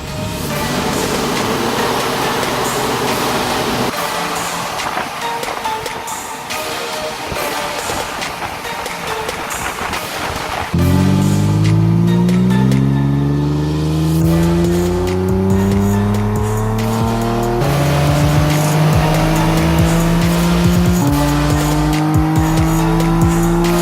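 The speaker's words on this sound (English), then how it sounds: "We're about to do a dyno run just to get a baseline on the car, see where it's at." A Nissan 370Z Nismo revs hard on a hub dyno, the engine droning loud and steady before climbing through rising harmonic sweeps as it pulls up through the gears, a continuous close, roaring run.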